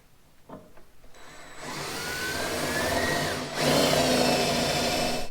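A power drill with a 1/4 inch bit drilling out rivets on a 4Runner door extension whirs steadily, winding up and pitching as the bit bites in, briefly dipping before running loud again, with no talking.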